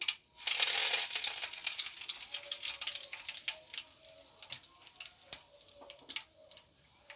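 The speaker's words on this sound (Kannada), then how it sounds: "ಶೇಂಗಾ ಹಾಕೊಳ್ತಾ ಇದ್ದೀನಿ ಎಣ್ಣೆಲಿ" Peanuts and curry leaves frying in hot oil, a steady close sizzle with dense crackling and sharp pops scattered throughout.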